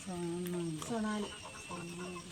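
Sonali chickens on a poultry farm give drawn-out, tonal calls in three bursts, close by and moderately loud against a steady farmyard background.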